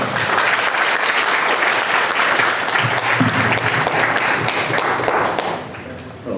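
Sustained audience applause for a speaker at a UFO congress forum in Lima, Peru, steady and full-bodied for most of the clip before thinning out near the end, with some voices mixed in.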